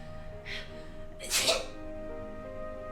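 A young woman's character in the Corpse Party: Book of Shadows horror game gives a single sharp, close sneeze after a brief faint intake, alone over a quiet background hum.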